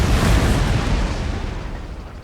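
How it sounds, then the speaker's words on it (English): A deep, booming video game cannon blast in Napoleon: Total War, with a rumbling tail that slowly decays, loud and close, with no talking. "I'm shooting sideways without having to move my cannon."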